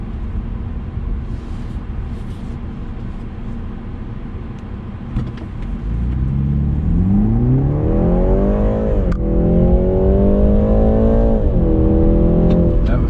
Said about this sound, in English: Get an idea of the 0 to 60 time on this car.